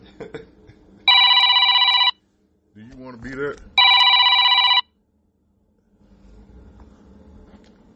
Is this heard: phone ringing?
yes